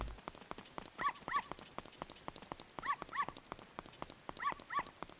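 Dogs barking in the video game Zelda Ocarina of Time, three pairs of quick barks at steady intervals over a rhythmic clip-clop pattern, fairly faint.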